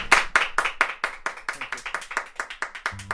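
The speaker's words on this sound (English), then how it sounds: "I think we should all give Jonathan a clap for that." A small group claps for Jonathan during a podcast club session. The claps are close and distinct, starting quick and energetic, then slowing and thinning into uneven, scattered claps over about three seconds.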